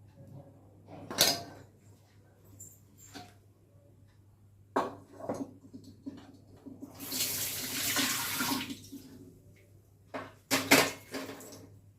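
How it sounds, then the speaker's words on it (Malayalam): Sesame seeds are washed under a running kitchen tap for a sweet barfi: a burst of splashing water lasts a couple of seconds, with clattering bowls and handling knocks before and after it, near and moderately loud. "കാരണം എള്ള് നന്നായിട്ട് കഴുകി"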